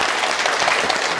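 An audience at a Korean real-estate agent exam prep meeting breaks into a dense, even burst of clapping, many hands together at close range with no pauses.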